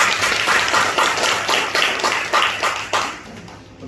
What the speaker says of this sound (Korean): 우리 다시 한번 일어나셔서 우리 환영의 박수 하겠습니다.